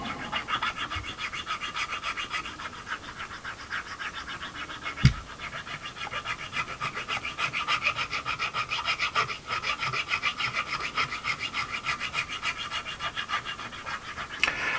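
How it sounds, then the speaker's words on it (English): Hand file rasping across an uneven surface being flattened, a steady scraping with alternating biting and sliding strokes, close and continuous throughout with one sharp knock midway. "there's a couple different sounds that you're hearing here. Some you can hear when it's biting, when the file's biting, and you can hear where it's sliding."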